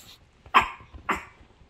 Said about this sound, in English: Whenever I make a sniffy sound, Polly Dog barks because she thinks someone's here.